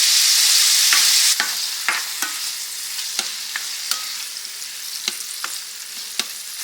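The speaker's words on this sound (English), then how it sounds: "I'm just going to add these into my skillet" Peppers and onions sizzle steadily in a skillet for smoked sausage dirty rice, loud at first as they hit the hot pan, then a constant fry broken by sharp clicks and scrapes of stirring.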